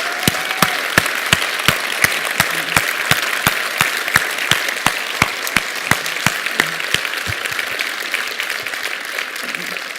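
Audience applause fills a conference hall at an open event, a steady dense clapping with sharp individual claps standing out near the front, sustained throughout without speech.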